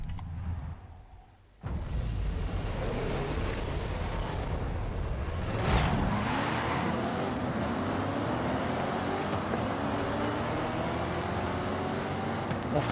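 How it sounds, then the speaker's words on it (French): A modified Ford Focus races in Forza Horizon 5, its engine a steady, loud drone that climbs and shifts in pitch through gear changes after a brief quiet start, alone with no talk. "on prend toujours notre Ford Focus modifié"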